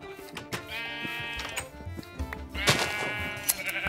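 Minecraft sheep bleat several times, wavering nasal calls repeating over a few seconds, with one louder, closer bleat near the end amid light game clicks.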